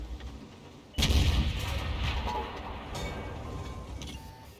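A cannon shot from the Italian Carro da Combattimento 45t tank in a video game, a sudden loud boom followed by a sustained rumbling roar with fainter mechanical clatter.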